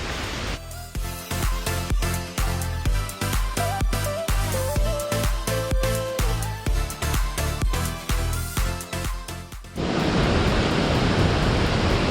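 Rushing water from the seventh tier of a waterfall in northern Thailand roars as a loud, steady hiss for the last couple of seconds, after a long stretch of rhythmic music.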